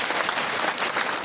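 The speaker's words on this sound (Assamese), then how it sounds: "এটা হাত চাপৰি বজাই দিয়া চবেই বজোৱা" An audience at a live event claps hands in a dense, even burst of applause, loud and continuous with no voices standing out.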